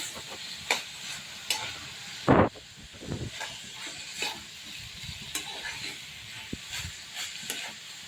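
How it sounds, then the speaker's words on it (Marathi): Radish pods are tossed and stirred in a hot pan, sizzling steadily with scraping strokes and one louder clattering scrape midway, no voices. "मुळ्याची शेंग ॲड करायची हे पहा आता वर खाली करून घ्यायची आपल्याला शेंगला"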